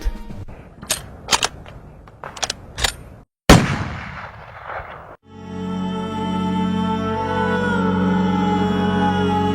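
Gunfire from an execution by shooting rings out as a rapid string of sharp, loud cracks, followed after a brief cut by a sustained, even drone of dramatic background tone.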